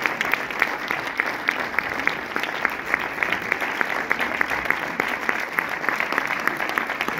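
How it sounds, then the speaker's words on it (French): Applause from a cinema audience welcoming actress Isabelle Carré at a film presentation, a steady mass of clapping with scattered sharper claps, continuous and moderately close for the whole stretch. "Je vous ai demandé les applaudissements, s'il vous plaît."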